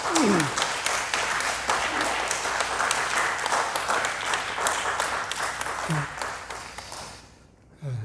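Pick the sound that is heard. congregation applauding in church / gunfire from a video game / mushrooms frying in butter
congregation applauding in church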